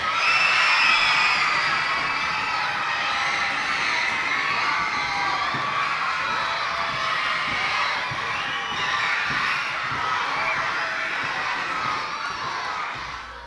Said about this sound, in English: So cheer loud, raise your hands, and let's hear it for our candidate